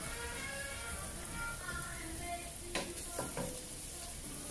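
Bacon sizzles in a pan in a home kitchen with a soft, continuous crackle, and a few sharp scraping stirs come near the end. A person talks faintly in the background.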